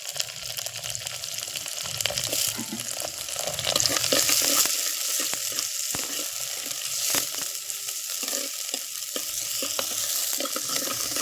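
Fennel seeds, bay leaf and cinnamon sizzling in hot oil for a village-style poricha kulambu: a dense crackling fry that swells after the first seconds, with scattered pops and stirring scrapes, close up.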